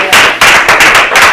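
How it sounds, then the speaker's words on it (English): A short burst of clapping for the Senate Democrats at a housing committee meeting in Bliss Towers, several hands striking in quick, loud, uneven succession with no voices. "I want to give the Senate Democrats a round of applause"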